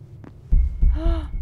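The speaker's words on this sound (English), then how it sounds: "Is this a heartbeat?" A heartbeat in the horror game Beyond Hanwell, a couple of low, close thumping beats with a faint hum and a brief tonal sound over them.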